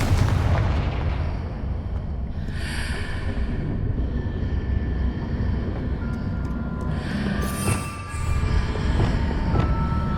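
Blasting-spell explosions in Hogwarts Legacy, rumbling booms and crackling bursts across a dense, continuous battle din, with a sharp burst near the end.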